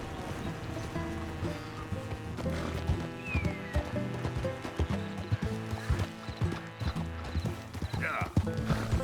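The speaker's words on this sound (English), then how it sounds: "It's just a donkey, idiot." Donkey hooves clip-clop at a steady walking rhythm in the open-world western game Red Dead Redemption 2, moderately close, with a brief whinny-like call and a voice speaking over the steps.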